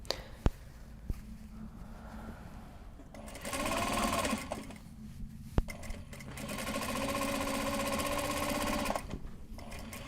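A sewing machine stitches box bag seams in two bursts of rapid, humming mechanical chatter, each lasting a few seconds, separated by a quieter pause with a couple of sharp clicks.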